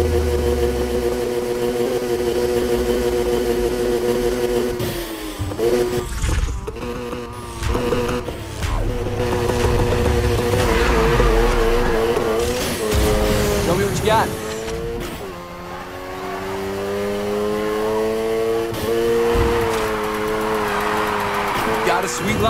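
A race car engine drones and tires squeal while drifting in the video game Need for Speed Heat, the revs rising and falling through long slides and gear changes, loud and continuous with music and voices underneath.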